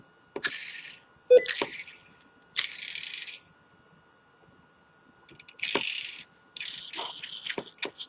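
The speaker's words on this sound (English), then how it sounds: "So another huge pro is listen to these threads." Metal threads of an EHPro Cronus clone vape tube being screwed, a series of short scratchy ticking bursts with quiet gaps, close and fairly faint.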